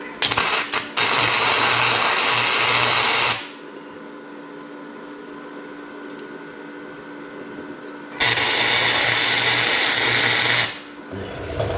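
Two loud sustained bursts of welding crackle while tacking an Allis Chalmers Simplicity hydro drive modification, each several seconds long and separated by a quieter low hum, close up with no talk.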